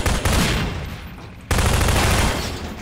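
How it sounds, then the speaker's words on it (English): A gunshot in Half-Life 2 detonates an explosive against a fence, giving two loud, broad blasts about a second and a half apart, each followed by a roaring, rumbling decay. "we're going to shoot this and see if it blows up the fence"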